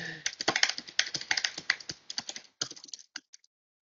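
Fast typing on a computer keyboard during an online technical training session, a dense run of crisp key clicks that slows into a few scattered taps, close and fairly loud with no talking.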